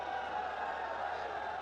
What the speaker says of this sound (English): Not happy, the crowd, not happy.